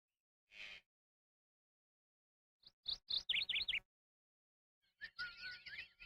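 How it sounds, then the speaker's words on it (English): Bird sound effects previewed from a sample library, short bursts of high chirps and tweets separated by silences, clear and close with no other sounds. "Where do I keep my bird sounds?"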